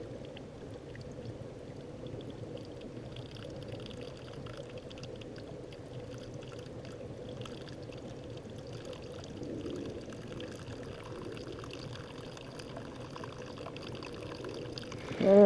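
Liquid pours and flows steadily for the whole stretch, a soft continuous trickle and wash at low level, rising slightly near the end with a faint voice.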